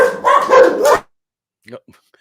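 A dog barks in a quick burst of loud, overlapping yaps lasting about a second, then goes silent before a few faint, distant whimpers or yips trail off.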